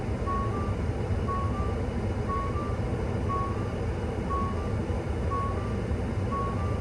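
A Ford F-150 Lightning's driver assistance warning chime rings as evenly spaced pairs of short tones, repeating about every second over steady road and cabin noise.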